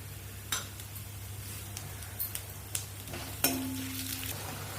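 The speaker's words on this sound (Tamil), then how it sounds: "இப்போ எல்லாம் கொஞ்சம் வறுபட்டுச்சு" Fenugreek, coriander, pepper and cumin roasting dry in a pan give a faint steady sizzle, broken by a few light scrapes and taps of stirring and one sharper clink near the end.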